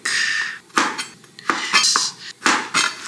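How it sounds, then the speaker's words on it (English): A knife cuts garlic on a board, making a run of sharp clattering knocks and scrapes in irregular bursts, close and fairly loud, with no talking. "First up, just cut the garlic."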